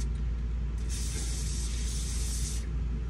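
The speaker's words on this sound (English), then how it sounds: "And again, just some silicone spray." A steady hiss of silicone aerosol spray in one continuous burst of about two seconds, close and clear over a low background hum.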